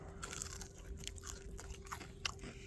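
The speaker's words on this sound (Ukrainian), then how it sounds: "зараз щось попробую відкусити" A few crisp crunching bites into a chicken nugget, close up, with chewing noises and a faint steady hum underneath.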